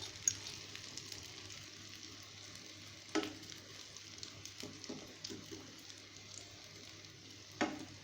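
Beaten egg is added to a cabbage omelette in a frying pan, giving a faint steady sizzle with a few soft scrapes and taps, quiet and close.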